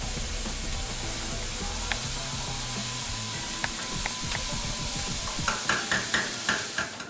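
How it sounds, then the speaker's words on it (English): A pan sizzles loudly and continuously, with a stirring, scraping rhythm and a few sharp clicks and taps toward the end. "You see that sizzle? A lot of sizzle right going on there."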